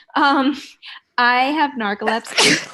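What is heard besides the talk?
sneeze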